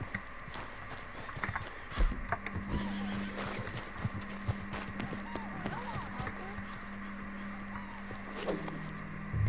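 A horse neighs and whinnies amid Red Dead Redemption 2 game ambience, with hooves clip-clopping and a steady low hum running throughout.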